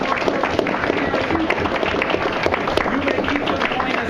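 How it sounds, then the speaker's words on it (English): Audience clapping steadily at a magic show, a dense continuous patter of many hands at moderate distance across the whole stretch, with a few sharper individual claps poking through. "If you would give him a big round of applause."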